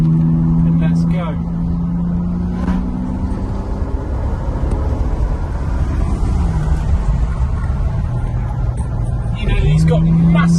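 A Bentley Continental GT driven hard on winding roads in sport gearbox mode with stiff suspension, its engine droning steadily and rising in pitch under acceleration, loud and continuous throughout.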